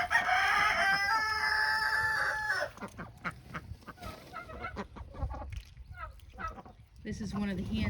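Chickens cluck and squawk nearby, starting with loud harsh calls, followed by softer scattered clucks and rustling, with someone talking over it.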